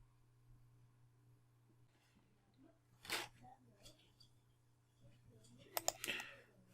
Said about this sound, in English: to continue our process, we should click on the EFT button